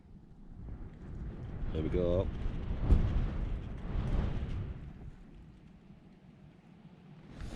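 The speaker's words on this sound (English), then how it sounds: "You can hear the wind coming, it's not constant." Gusty wind on the exposed summit of Helvellyn rumbles and buffets the microphone, rising and falling in uneven surges while someone talks over it.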